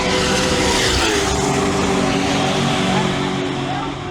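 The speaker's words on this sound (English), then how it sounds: "That V8 LS dragster sounded awesome" An LS1 turbo V8 drag car at a drag racing event roars loudly and close, a dense, sustained engine blare whose pitch climbs slightly before easing off at the end.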